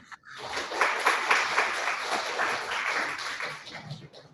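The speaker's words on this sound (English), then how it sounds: "Can we get a round of applause for Kevin?" An audience claps for speaker Kevin Tan after a Silicon Valley founder talk, a brief round of applause that rises quickly, holds, and tapers off near the end.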